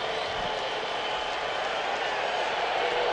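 A baseball stadium crowd of about 9,000 roars steadily in the ninth inning at a Cardinals versus Reds game, a dense, unbroken wash of noise with no pauses.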